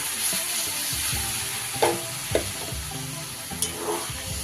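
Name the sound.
water added to sizzling banana flower and potato curry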